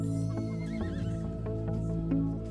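A horse neighs and whinnies in the Switch video game Miitopia, a loud, close call over steady game music, with clip-clopping hoof beats in the mix and no talking.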